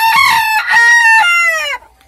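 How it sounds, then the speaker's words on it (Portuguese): An ornamental-breed rooster crows once in a loud, close, drawn-out call lasting nearly two seconds, ending abruptly into quiet farmyard air. "Esse galo é muito bonito."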